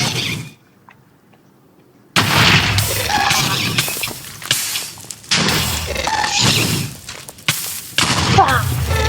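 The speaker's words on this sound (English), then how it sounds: "That is a ghast and it will shoot fireballs at you." Ghast fireballs in the Minecraft Nether, heard as loud bursts of booming blasts and crashing impacts after a brief quiet stretch, with thuds in between.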